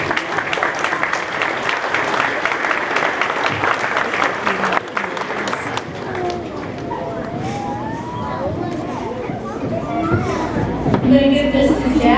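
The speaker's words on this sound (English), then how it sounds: "I'll give Jack a big round of applause." Audience applause fills a school Veterans Day assembly, a dense sustained clapping that runs loud for several seconds before fading into a hum of crowd noise and a voice speaking over the room.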